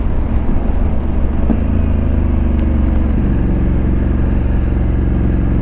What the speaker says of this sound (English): this is where this bike shines, the high speed cruising